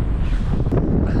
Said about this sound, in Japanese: 風がやばい。